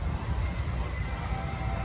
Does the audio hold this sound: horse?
yes